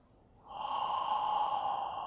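Slow, deep breathing from people during a guided breathing exercise in a university hall, one long, soft breath swelling in and holding steady, fairly close and alone without talk.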